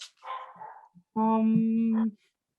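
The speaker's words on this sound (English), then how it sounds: "Can you hear my dog barking, by the way?" A dog gives a few soft whimpering yips, then lets out one long, sustained whining howl of about a second, close and clear with nothing else around it.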